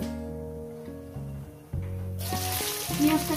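Onion drops into hot oil partway through and a bright, steady sizzle rises under background music and continues to the end.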